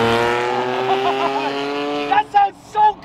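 A yellow Nissan GT-R sports car drives on a road with a loud, sustained harmonic engine tone that fades, followed by short bursts that may be voices.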